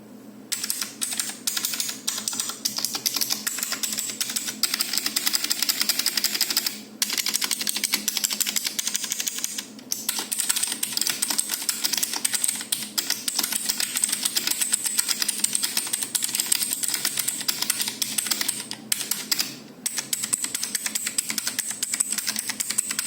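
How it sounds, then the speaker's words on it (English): A Gigaware K550 hot-swap mechanical keyboard with blue switches is typed on steadily, giving a dense, close run of crisp clicky keystrokes with slight keycap rattle and a few brief pauses. "This also causes some keycap rattle when typing."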